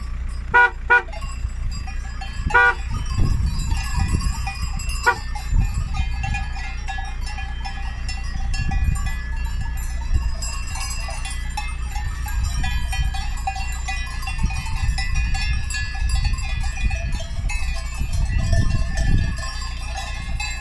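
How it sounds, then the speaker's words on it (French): A flock of sheep passes close by a car, bells clanking irregularly among a low idling engine rumble, with a few sharp horn-like toots near the start. "ça c'est des vrais moutons, c'est pas les moutons français moutruches"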